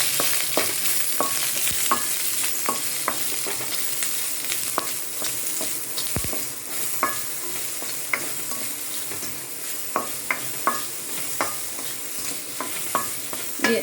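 Onions and masala frying on low flame in a pan, a steady close sizzle broken by regular sharp scrapes and taps of the stirring spoon throughout, with no talking.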